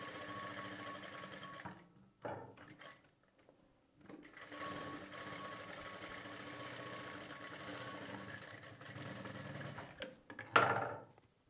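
A sewing machine stitches along canvas on a blouse back neck, running in steady bursts of rapid mechanical ticking with short pauses between runs, fairly quiet and close.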